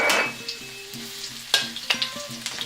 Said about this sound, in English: First, you dump the garlic into the wok.